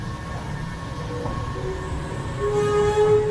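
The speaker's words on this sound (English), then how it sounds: "That noise you hear is the sound of the escalators, which needs to be lubed up and oiled because it sounds kind of like a monster right now" Unlubricated escalators at a metro station grind and drone loudly and steadily, with a faint squealing tone rising near the end.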